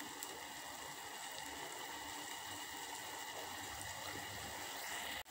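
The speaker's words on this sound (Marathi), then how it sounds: "आता या पाण्याला थोडी 1 मिनिटभर उकळी येऊ देऊ आपण।" Water heating to a boil in a pan makes a faint, steady hiss and low rumble, quiet and unchanging throughout, with no talking.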